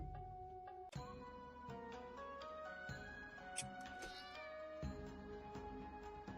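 A cartoon cat in a Flash browser game meows repeatedly over busy game music and sound effects, the cries fairly loud and mixed with chimes and ticking tones.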